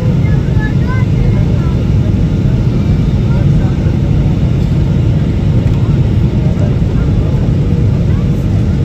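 Airliner cabin in flight approaching Dubai amid light turbulence: a loud, constant broadband engine and air roar fills the whole span, with faint talk buried beneath it.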